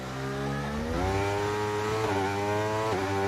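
Formula 1 car engine in a video game at Singapore, screaming at high revs with rising and dipping pitch as it shifts through gears, loud and continuous with no talk over it.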